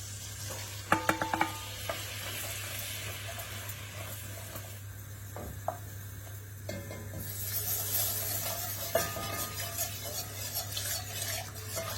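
Butter and flour cook together in a pan for a bechamel, giving a soft steady sizzle with scattered utensil clinks and stirring scrapes against a constant low hum.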